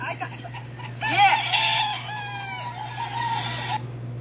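A chicken gives a loud, drawn-out squawking call with a few clucks, close by over a steady low hum.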